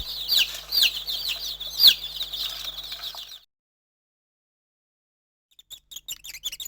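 High chirping and cheeping of small birds, a busy run of quick calls that stops abruptly, then after a silent gap some faint chirps return.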